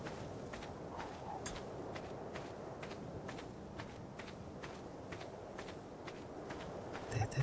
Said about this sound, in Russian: послушай просто шаги, где же эти шаги идут